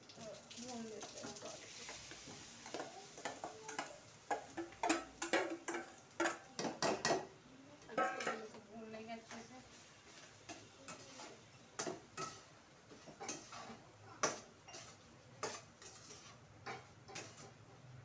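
Potatoes stir-fried with masala in a pan, the spatula clacking against the metal in uneven bursts over a soft sizzle, close and fairly quiet, with a person speaking at times.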